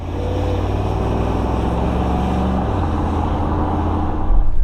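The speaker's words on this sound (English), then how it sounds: "let me take you out for a drive in the Mercedes wagon" A 1983 Mercedes 300TD diesel wagon on the road, its engine droning in a steady low hum with constant road and wind noise, getting louder toward the end.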